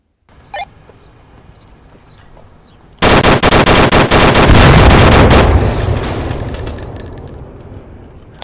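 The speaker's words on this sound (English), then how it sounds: "a little bit of footage on the battlefield of the AK-12 in action" After a quiet stretch with one faint pop, an AK-12 rifle in the Onward VR battlefield bursts into loud, rapid automatic fire for about two seconds, followed by decaying echoes and distant rattling.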